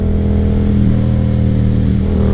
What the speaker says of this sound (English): This bike, with every little input of the throttle, it has a different exhaust tone.